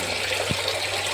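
A thin, slow, continuous trickle of water in a balcony aquaponics system with fish, soft and steady for about a second.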